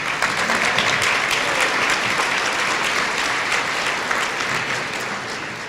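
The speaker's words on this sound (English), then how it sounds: "I'd like to ask for a brief applause for the New England Gospel Mass Choir, who did our invocation." Steady, dense audience applause fills a hall at a Martin Luther King Jr. breakfast event, honoring a gospel mass choir; loud, continuous clapping that tapers slightly near the end with no speech.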